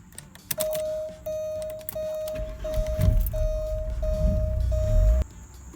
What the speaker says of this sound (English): The only thing left to do here is see if the car will start.